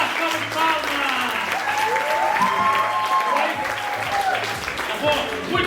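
Audience at a church night show during Carnival clapping in sustained applause, dense and steady throughout, with voices talking over it.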